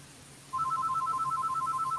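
A phone starts ringing partway through with a rapid, steady electronic trill that repeats in even pulses over a quiet indoor room with a low hum, fairly close and with no talking.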